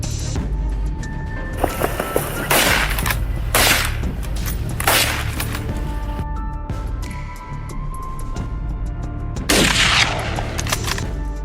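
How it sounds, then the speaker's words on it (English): Repeated bursts of gunfire crack out at intervals during a wild hog hunt, echoing broadly over a steady outdoor background, with several sharp volleys standing out loud and near. "from Kevin's position, gunfire echoed as more were stopped"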